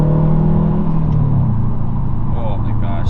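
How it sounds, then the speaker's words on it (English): A 2020 Subaru STI engine with a loud aftermarket Tomei exhaust revs and rumbles steadily, its pitch dropping slightly partway through, with no speech over it. "This car sounds gnarly. Sounds so ignorant with this Tomei exhaust."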